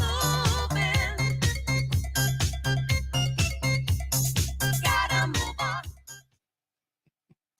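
The original disco track plays with a punchy, steady beat, bright synth riffs and vocals, fairly loud and close, then stops abruptly, leaving near silence.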